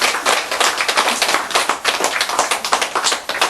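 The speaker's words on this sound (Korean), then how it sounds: "박수!" An audience at a Buddhist sermon on the Vimalakirti Sutra claps in a steady, dense burst of applause, close and lively, with no talk over it.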